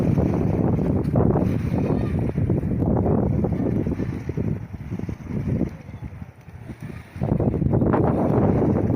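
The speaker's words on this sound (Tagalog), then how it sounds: "May simoy na rin yung ano, mahangin na." Strong wind buffets the microphone in loud, gusty rushes, easing briefly before surging again, with faint water and boat sounds beneath.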